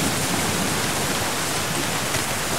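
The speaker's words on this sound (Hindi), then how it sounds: "उफ, बहुत तेज बारिश हो रही है" Heavy rain pours down in a steady, dense hiss, loud and close, with no breaks and no talking.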